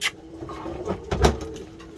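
A pigeon kept by a Valencia pigeon breeder coos softly in low, throaty pulses, close by amid faint background noise, with no talking.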